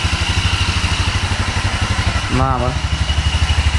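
A cold GY6 scooter engine from a Mega Hummer 250 CVT idles without choke after a valve clearance adjustment on overly tight intake and exhaust valves, with a steady, even low thrum throughout and a brief voice in the middle.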